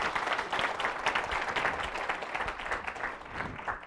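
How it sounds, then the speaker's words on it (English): Audience applause welcoming a speaker at a history talk on Idaho women's suffrage, steady clapping from a moderate crowd in a hall, sustained and even for a few seconds, heard from a distance. "Let's give her a round of applause."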